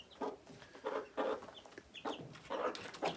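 A mother hen with a newly hatched batch of chicks gives repeated soft, low clucks in an even rhythm, close and fairly quiet.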